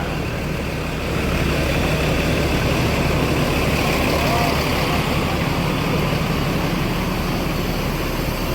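A bus with an automatic transmission idles at a crowded passenger terminal, its engine a steady, loud, broadband rumble that continues throughout with background crowd noise and voices beneath.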